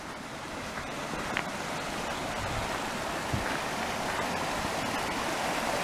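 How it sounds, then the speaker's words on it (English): A creek running over a deep gravel bar outdoors: a steady, fairly loud rushing wash of water, continuous and even throughout with no talking. "So there's a creek there."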